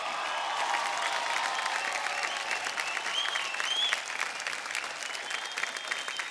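A large crowd at an Indian folk singing reality show claps hard, a thick, sustained roar of applause that holds steady for several seconds, with faint voices underneath.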